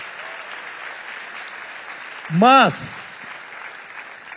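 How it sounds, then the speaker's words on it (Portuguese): Steady applause from a church missions symposium audience runs throughout, with a brief rising vocal sound in the middle. "Pode aplaudir mesmo, glória a Deus."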